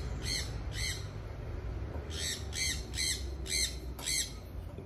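An injured bird squawks in a series of about seven loud, harsh calls, in two groups with a short pause between them, over a steady low background rumble.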